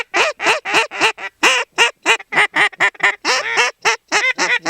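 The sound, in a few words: duck comeback call, a happy-sounding duck imitation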